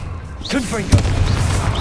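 The Confringo blasting spell in Hogwarts Legacy lets out a sharp explosive boom with a low rumbling tail, amid magical whooshing effects and character voices.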